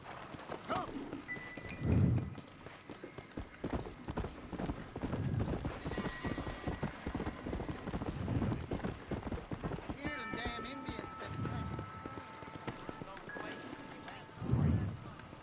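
Rhythmic horse hoof clip-clops in the video game Red Dead Redemption continue throughout, with occasional heavier thuds and a faint whinny, while people talk over them.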